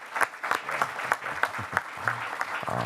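An audience at a school board meeting claps for teachers, a moderate round of individual hand claps in a loose, uneven rhythm, fairly close and with no talking.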